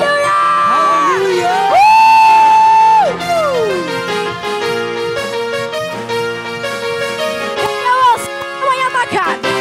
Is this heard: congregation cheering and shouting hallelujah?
yes